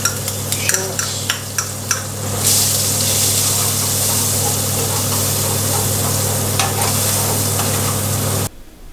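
Shallots sizzle in duck fat in a frying pan with a steady, loud hiss, broken by a few sharp stirring clatters early on and ending abruptly.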